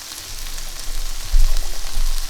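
Kimchi frying in a hot pan, a loud, continuous sizzle and crackle that swells midway and stays close and steady, with no voices over it.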